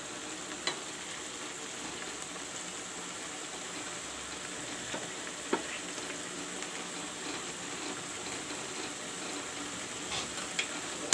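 Matar chimi masala with green peas and salt frying in a pan, a steady soft sizzle throughout with a few faint clinks and stirs, no voices.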